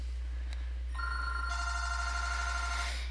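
A telephone rings indoors with a steady electronic trill that starts after a brief click and carries on loud and alone.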